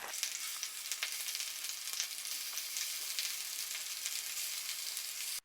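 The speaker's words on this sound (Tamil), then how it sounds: "எண்ணெய் சூடானதும் இப்போ ஊற வச்ச சிக்கனை இதில் பொரிச்சு எடுத்துக்கலாம்." Marinated chicken fries in hot oil in a kadai, giving a steady, close, dense sizzle with faint crackles that runs unbroken throughout.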